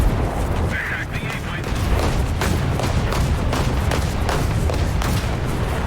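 Naval cannon fire from 76 mm guns in War Thunder, a run of booming shots at irregular intervals over a constant engine and water roar.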